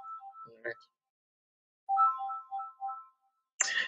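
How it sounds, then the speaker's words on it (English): A mobile phone ringtone goes off during a presentation: a short melodic tone phrase, a pause, then a longer repeating run of chiming notes, loud and alone, cut by a brief sharper sound at the end. "I apologize for my phone ringing."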